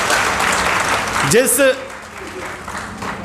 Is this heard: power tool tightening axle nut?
no